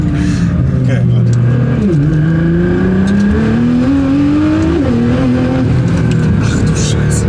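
A Nissan GT-R R35 engine revs hard under throttle on a track, its steady loud drone rising and dipping in pitch with gear changes, while people talk over it inside the car.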